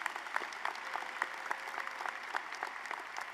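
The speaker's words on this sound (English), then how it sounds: "You can clap for that as well" Audience clapping at a spring commencement ceremony for a college of education, fairly quiet and distant, a steady patter of many hands with a few sharper claps standing out.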